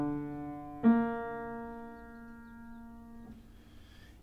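An atonal trichord for ear training sounds as sustained pitched tones. A low note is joined by a sharply struck higher note, and the chord rings and fades before a soft noise at the end.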